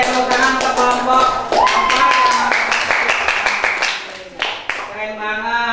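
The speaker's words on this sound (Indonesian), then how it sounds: "tepuk tangan untuk kelompok" A classroom group claps for a presenting team during a teaching practice session, a burst of sharp hand taps over voices and chatter, fading as a speaker talks over the end.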